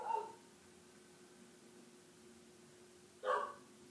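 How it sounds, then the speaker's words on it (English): A dog barks twice, a short bark at the start and another about three seconds later, both somewhat distant against a quiet indoor background hum. "I swear that dog needs to shut up"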